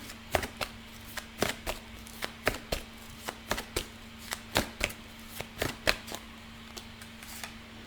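Tarot cards being shuffled by hand, a steady run of crisp riffling snaps and taps in an uneven rhythm, close and alone with a faint constant hum underneath.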